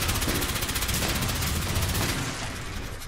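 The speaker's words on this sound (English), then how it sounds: "Oh, that turret's still alive." An automated turret in the video game Fallout 76 fires a rapid, continuous burst of gunfire that stays loud and dense throughout, then eases slightly at the end.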